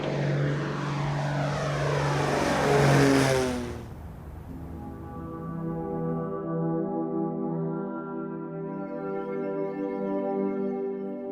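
Propeller aircraft engines roar loudly, then their pitch sweeps and settles into a steady droning hum with rhythmic beating, as a World War II-era bomber prepares for takeoff at RAF Scampton.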